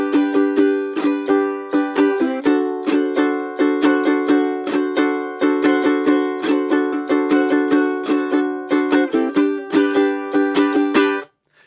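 A ukulele plays a fast island strum with a rasgueado flourish on the second downstroke; a dense, rapid run of bright strums with rolled accents, steady and alone until it stops.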